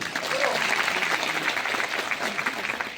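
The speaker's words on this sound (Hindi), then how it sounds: "ऐसे लीडर विवेक कुमार सक्सेना सर के बाद जोरदार ताली" Loud, dense applause from an audience at a Vestige marketing program in Basti, clapping steadily and evenly for the full few seconds, with no voices standing out.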